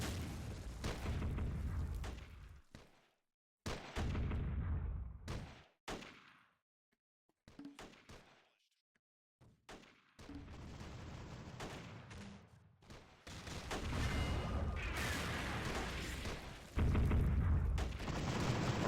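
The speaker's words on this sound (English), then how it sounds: "You can actually hear the rounds just pinging off the BRDM." In the war game Close Combat Modern Tactics, heavy gunfire and automatic bursts rattle against a BRDM armored vehicle, arriving in loud clusters broken by near-silent gaps, with dense sustained firing toward the end.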